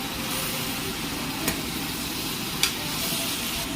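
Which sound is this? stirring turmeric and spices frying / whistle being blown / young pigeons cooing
stirring turmeric and spices frying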